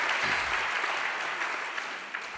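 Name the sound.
audience applause at a congress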